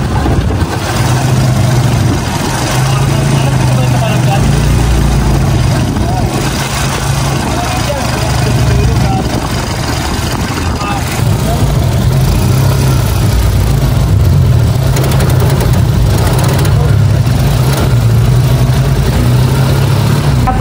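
A motorized tricycle's engine drones steadily while riding, loud and close throughout, with people talking over the engine noise.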